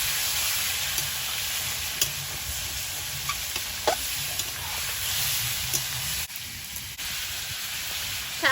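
Chicken frying in butter and oil with whole garam masala and bay leaf in a kadai, a continuous soft sizzle with occasional stirring clinks and scrapes, no talking.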